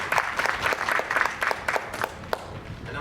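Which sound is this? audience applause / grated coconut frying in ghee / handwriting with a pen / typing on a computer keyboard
audience applause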